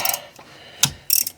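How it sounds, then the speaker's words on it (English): A few short ratchet wrench clicks and mechanical rattles while loosening rusty exhaust nuts on a 2011 Ford Fiesta during a catalytic converter replacement, close and brief with quiet gaps between. "Got the 4 nuts loose."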